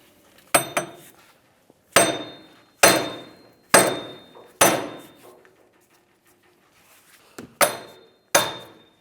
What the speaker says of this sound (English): We're going to use a 4-pound sledge, see if we can get this hub to come off of the knuckle.